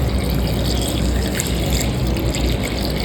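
About 250 ml of water is poured into a vessel holding a handful of fenugreek seeds for a homemade beard growth spray, making a loud, close, continuous stream of pouring liquid with no voices.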